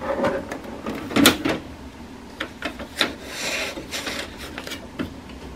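Paper rustles and slides with a few scraping, clicking handling sounds as a document is fed into a printer's automatic document feeder for scanning, close and fairly quiet.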